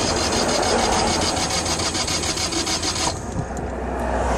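A Citroën Dyane 6 engine cranking but failing to restart, a fast rhythmic whirring churn from the starter that runs for about three seconds before cutting off into quieter background, close and loud.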